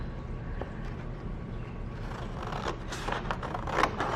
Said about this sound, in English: Go ahead and cut that out.